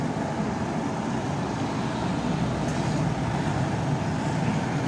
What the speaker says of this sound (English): Here comes the engine sound.